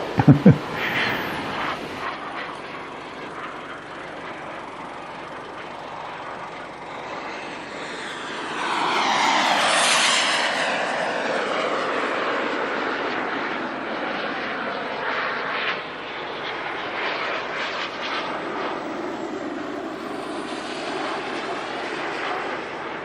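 A jet airplane at a model jet flying event sweeps overhead, its engine whine rising to a loud peak as it passes close and then holding a steady roar as it moves away, with no talk over it.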